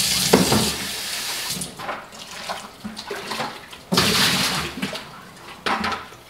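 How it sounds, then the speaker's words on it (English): Warm tap water runs into and splashes around a plastic top-off container being rinsed, a loud close rushing flow that surges and drops several times over a few seconds. "All I need to do is just give it a quick rinse with some warm water."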